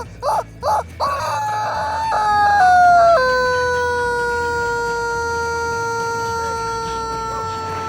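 Rubber chicken toy squawking outdoors at Venice Beach: three short honks, then a long loud strained screech that slowly falls in pitch and fades.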